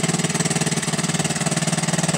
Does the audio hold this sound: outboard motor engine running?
yes